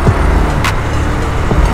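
Road traffic in Sharjah: a loud, close car engine drone with continuous rumbling, and brief whooshes of passing vehicles.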